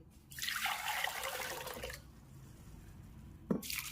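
Water pours into a pressure cooker holding soaked rice and split moong dal for jaggery pongal, a close splashing rush for about two seconds, a quiet pause, then a soft knock and a second short pour.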